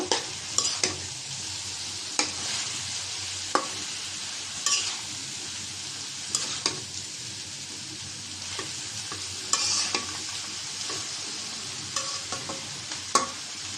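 Leafy greens with coriander leaves being stirred and fried in a pan give a steady soft sizzle, broken by sharp clinks and scrapes of a utensil against the pot at irregular intervals.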